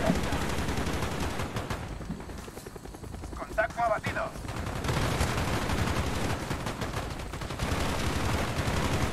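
Call of Duty Black Ops gameplay with bursts of automatic gunfire and a helicopter's rumble, loud and continuous, a brief lull midway, and voices mixed in.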